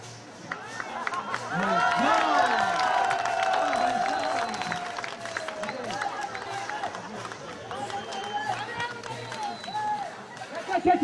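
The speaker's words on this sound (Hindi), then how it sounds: "जोर से ताली बजाइए इनके लिए एक बार।" An audience claps together at a live event in India, steady loud applause with scattered cheers, while someone speaks in Hindi over the clapping throughout.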